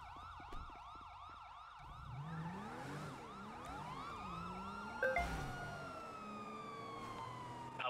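In GTA V, an ambulance siren wails and yelps in repeating rising and falling sweeps, fairly faint, with engine rumble underneath and a brief clunk partway through.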